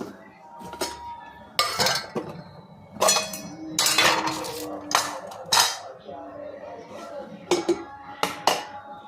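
Pots and utensils clank sharply in a home kitchen as a pressure cooker is set down, with several loud metallic knocks and clinks spread through the clip and someone speaking in between.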